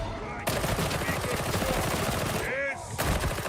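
Rapid gunfire bursts from a Warhammer 40k video game, loud and dense, running continuously with a short lull near the end before the shooting resumes.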